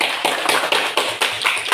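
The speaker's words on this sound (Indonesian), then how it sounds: "Kelompok Iman dan Takwa. Kasih aplaus dulu." Students in a classroom applauding a group, a brief burst of rhythmic, fairly loud hand clapping with regular beats and no talk.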